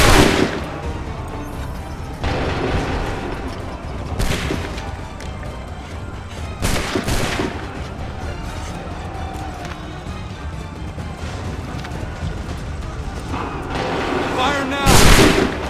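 Loud musket volleys and scattered gunfire ring out during a battle in the Assassin's Creed 3 video game. Several sharp, booming blasts stand out over constant battlefield din.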